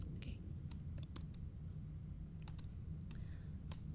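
Quiet, close computer keyboard typing during a Duskers game session, a scattering of light, irregular key clicks over a low steady hum.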